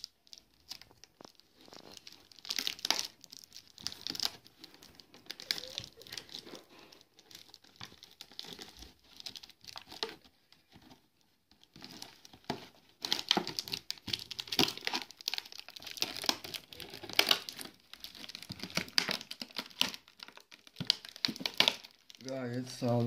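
A box holding a live Medauroidea extradentata stick insect being unpacked: close, irregular bursts of crinkling paper and tearing, with pauses between and a voice speaking at times.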